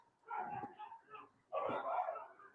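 Neighbors' dogs fighting outside in the dark, with two bursts of snarling, yelping and barking, moderately loud and somewhat distant, no talking over them.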